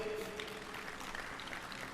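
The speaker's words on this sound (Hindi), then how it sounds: "एक बार जोरदार ताली बजाओ" A brief burst of audience clapping at a yoga and health gathering with Swami Ramdev, a steady mass of hand claps heard somewhat distantly over a murky, reverberant background.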